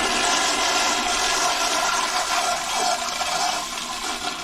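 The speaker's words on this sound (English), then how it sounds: "Do a flush test." A toilet flushes during a test after its floor flange was repaired and the base shimmed, a loud, steady broadband rush of water lasting several seconds, close and with no talk.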